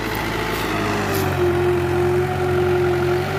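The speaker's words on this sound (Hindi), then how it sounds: "देखो आवाज ट्रैक्टर की फस गया भाई," A 75-horsepower two-wheel-drive New Holland 7500 tractor labours close by as it drags a heavily loaded eight-foot desi jatra scraper of manure out of a pit. Its engine gives a loud, steady, low drone with a rising whine over it.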